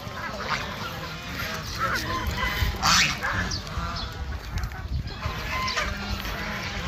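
A flock of penned ducks quacks and honks continuously at close range, calls overlapping against a busy outdoor background with no clear talk.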